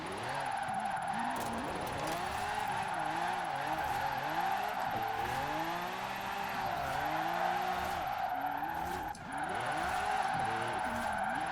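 A Lamborghini drifting in Forza Horizon 4 holds a loud, steady engine roar with sweeping rev rises and falls, over continuous tire squeal and skidding that runs almost unbroken, with one brief dip near the end.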